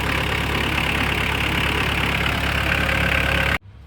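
A diesel engine idles steadily just after its rebuilt fuel injection pump has been installed, giving a loud, dense, continuous rumble that holds level for several seconds and then cuts off abruptly.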